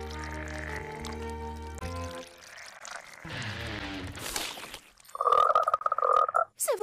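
Cartoon frogs croak in a busy animated scene, a loud buzzy croaking burst near the end following music, splashy effects and voices.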